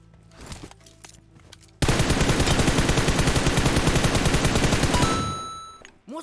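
A long, loud automatic burst of gunfire in the video game PUBG, with rapid, evenly spaced close shots lasting about three seconds after quieter background sounds.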